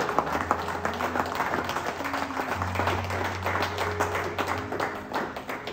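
A church congregation applauding to acclaim God, dense continuous clapping from many hands with a sustained musical tone underneath.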